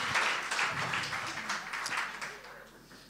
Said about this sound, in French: On peut les applaudir plus fort.